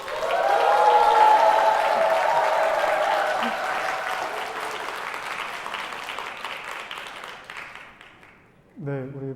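A church congregation breaks into loud, sustained applause and cheering that gradually fades over several seconds, before a voice begins speaking at the end.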